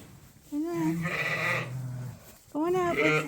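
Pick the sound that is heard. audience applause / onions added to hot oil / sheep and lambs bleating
sheep and lambs bleating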